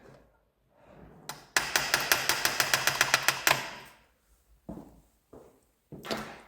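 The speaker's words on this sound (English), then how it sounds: "get this bolt lined up here. It's just struggling to come through here, through the whole of the alternator" A bolt being forced through the alternator of an MG car, heard as a rapid, even run of metallic knocks lasting about two seconds. Scattered single clunks and scrapes come before and after the run, close up, with no talk.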